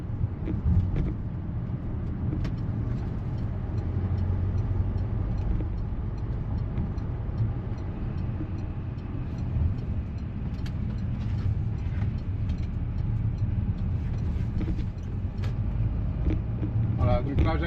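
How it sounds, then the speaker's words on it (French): A Peugeot RCZ THP accelerating hard at full throttle in economy mode, giving a steady, muffled engine and road drone with no clear rise in revs, heard from inside the car. "Voilà, donc là j'accélère à fond"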